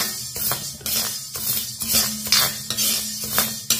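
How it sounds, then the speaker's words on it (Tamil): Black urad dal being dry-roasted in a pan, with a spoon scraping and clinking against the metal in steady repeated strokes as the lentils are stirred, close and fairly loud. "இதை ஒரு 5 நிமிஷத்துக்கு உளுந்தோடைய பச்சை வாடை போகிற அளவுக்கு நம்ம இதை நல்லா வறுத்துக்குருவோம்."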